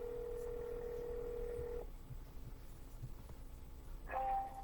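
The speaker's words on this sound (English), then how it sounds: "I need to keep dialing though either way." A telephone dials out during a real estate cold call: a steady tone cuts off, followed by a quiet pause and a short, close electronic dialing beep.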